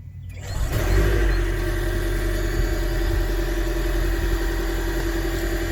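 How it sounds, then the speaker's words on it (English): The combustion engine of a 2020 Toyota RAV4 Hybrid XSE kicks on from near silence, then settles into a steady, close mid-pitched hum and idle drone. "the internal combustion engine kicks on"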